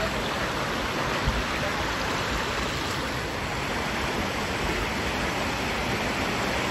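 A strong, fast-flowing stream of water near Dhodani waterfall in rain, a loud continuous broadband rush that stays steady throughout.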